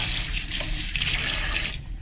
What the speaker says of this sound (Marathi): आता बघा सगळं जाते पाणी